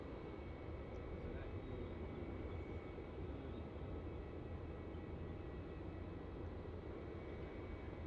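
Malaysia Airlines Airbus A330 at Melbourne Airport, a steady, broad engine roar held at even loudness throughout, distant and rumbling.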